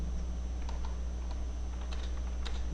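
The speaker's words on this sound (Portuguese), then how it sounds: "Na célula A2 digitamos acerto semanal" Typing on a computer keyboard into a spreadsheet cell: a quiet run of light, irregular key clicks over a low steady hum, with no voice.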